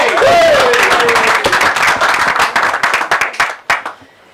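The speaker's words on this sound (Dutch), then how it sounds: "Applaus voor Jolies." Audience applause at a poetry club evening in Rotterdam, a dense burst of clapping that thins into scattered individual claps and fades out near the end.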